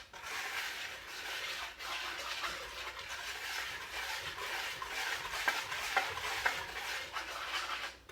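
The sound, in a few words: whisk mixing cake flour and cinnamon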